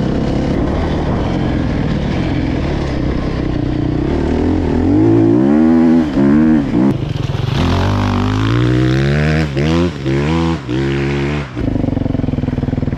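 An enduro motorcycle is ridden hard at full throttle, its engine loud and close as it climbs and drops through repeated rising revs with brief gaps between gear changes.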